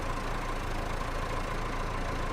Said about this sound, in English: So we'll back the tractor over here.